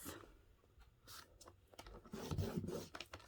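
A score blade drawn across cardstock to crease it in half during stamping card making gives faint dry rasping and rubbing strokes in short bursts, quiet and close.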